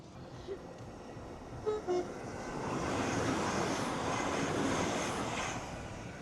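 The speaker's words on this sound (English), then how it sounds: "Just filmed that train and he peeped his horn." Near a railway line in Towyn, North Wales, a passing train gives a couple of short horn peeps, followed by a loud, steady rumble as it rolls by outdoors.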